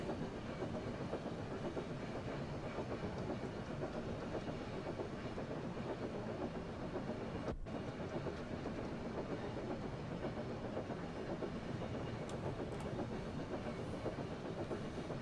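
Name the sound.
train running on rails in Train Sim World video game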